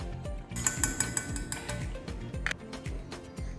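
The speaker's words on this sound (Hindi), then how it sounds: "बस 1 स्पून की हेल्प से आप इसे मिक्स कर लें।" A metal spoon clinks repeatedly against a container while mixing chilli pickle masala in warm oil for stuffed red chilli pickle, giving a steady run of close, bright taps and scrapes with no talking.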